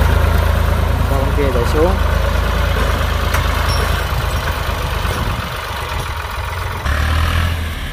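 A Ford farm tractor with a 3.3-litre three-cylinder 63 HP diesel engine runs at a steady, loud, low rumbling idle close by, while someone speaks over it.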